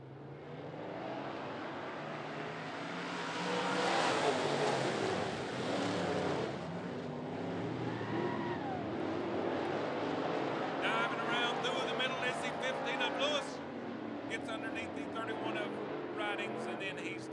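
Race cars roar around a motor speedway during a race, with engine drone swelling and fading as cars pass. An announcer talks over the engines.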